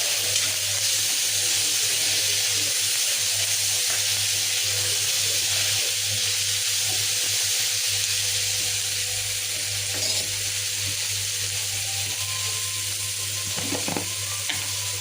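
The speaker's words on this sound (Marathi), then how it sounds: "त्यात टाकूया टमाटर. थोडं परतून घेऊया" Tomatoes sautéing in hot oil in a pan for a toor dal amti, giving a continuous, even sizzle close by, with occasional faint scrapes of stirring.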